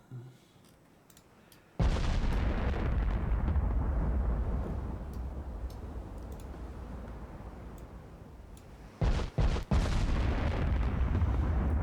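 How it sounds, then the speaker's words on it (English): 18-inch naval guns fire in the warship game Ultimate Admiral Dreadnoughts: a loud, deep boom opens into a long rumbling roar that slowly fades, then two more sharp blasts come close together near the end. "let's see how these things respond to 18-inch guns"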